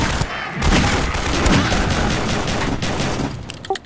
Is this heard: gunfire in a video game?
yes